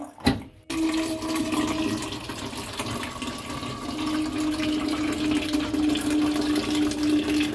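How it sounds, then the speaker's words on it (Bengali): Water runs steadily from a tap or pump into empty water bottles, a continuous close rushing fill with a faint mechanical hum, alone after a brief clatter at the start. "তো বন্ধুরা জল টল ভরছি"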